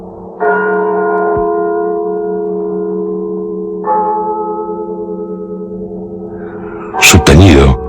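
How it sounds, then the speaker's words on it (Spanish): Church bells toll a slow death knell, two deep strikes ringing out and fading into a long humming resonance, followed by a brighter clanging bell near the end. "El doble de las campanas."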